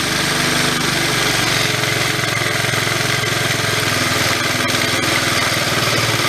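An old small Honda dual sport motorcycle engine with no air cleaner runs loud and close, a dense, rattly mechanical chatter that settles toward idle without pause, and no voices are heard.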